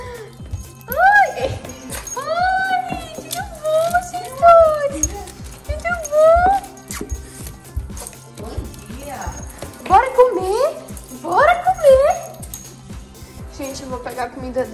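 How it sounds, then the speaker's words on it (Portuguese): Several dogs bark and whine in bursts, high-pitched yelps and barks coming in clusters, close by, with a low hum underneath. "então eles estão latindo"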